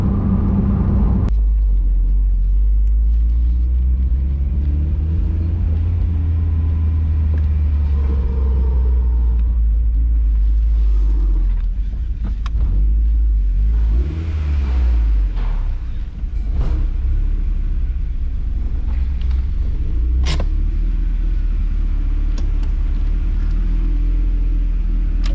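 A turbocharged Mazda Miata on a budget build rumbles along the road, its deep engine note rising and falling through shifts and throttle changes, loud and close, for about twenty-five seconds.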